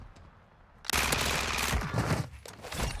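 Rapid pistol hip-fire in Call of Duty Warzone on Ashika Island, a sudden loud burst of quick shots after near silence, continuing in dense volleys close up.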